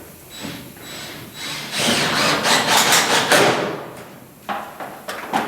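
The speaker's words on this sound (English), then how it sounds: "go ahead and put one leading screw in" A leading screw driven into a metal roofing panel on a custom 8x14 penthouse chicken coop: a few short taps, then a loud grinding whir from the driver for about two seconds, followed by quieter clicks and scrapes.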